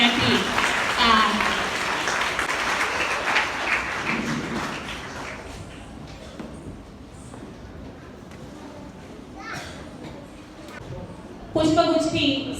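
An auditorium crowd claps at a district-level Kala Mahakumbh arts competition, a dense burst of applause that fades under a voice on a microphone, with a short fresh round near the end.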